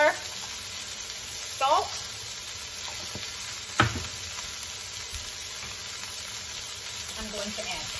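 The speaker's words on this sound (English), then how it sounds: "We have our beautifully shredded Napa cabbage here that I'm just going to toss in just like so" Shredded Napa cabbage tossed into a pan for a keto stir fry, a faint steady sizzle with a few brief clatters of stirring and a short spoken word.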